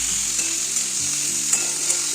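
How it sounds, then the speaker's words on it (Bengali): Jackfruit pieces fry in a pan for a vegetarian curry, giving a steady close sizzle with a few soft stirring scrapes and clinks. "এরপর আমি এঁচোড়গুলো বেশ একটু ভেজে নেব"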